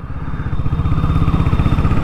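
Motorcycle engine thrumming steadily while riding on a road trip, a continuous loud pulsing drone with clattering mechanical texture and no pauses.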